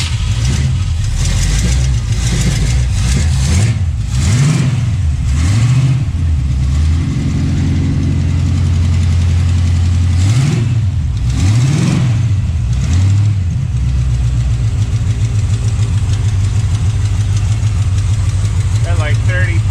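A 350 small-block Chevy V8 idles loudly up close, then is revved hard twice in sweeping surges before settling back to a steady idle, with people talking over the engine.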